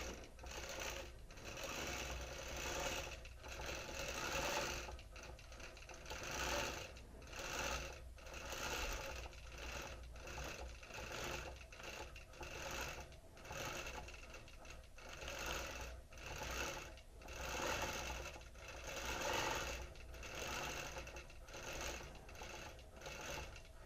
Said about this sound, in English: these words will stitch continuously